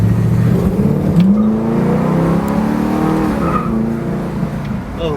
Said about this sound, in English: I'll give it a little bit of gas. Maybe you can hear that 4-barrel.